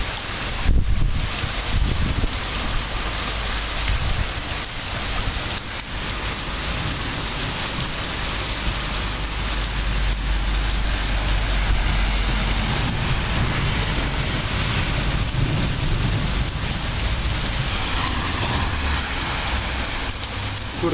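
Steady, heavy torrential downpour hammering surfaces and flooding a courthouse courtyard, a dense continuous roar with some wind noise and no voices.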